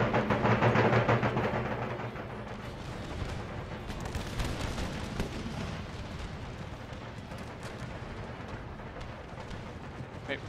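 Cannon artillery volleys in the battle game Empire: Total War, heavy booms at the start giving way to a dense, rolling crackle of distant gunfire that carries on throughout.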